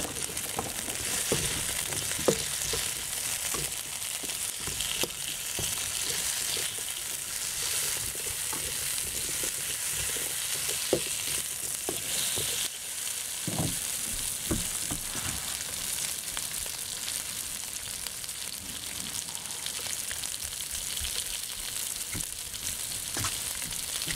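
Garlic, hot chili pepper, red pepper and cucumber stir frying in a hot pan for a hot and sour cucumber dish, a steady close sizzle with occasional stirring scrapes and crackles, no talking.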